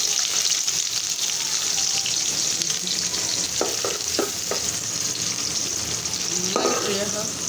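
Spice paste with cumin and whole coriander frying in a hot pan for a Bengali fish fry with taro stolons, a steady close sizzle with a few soft stirring knocks, no talking.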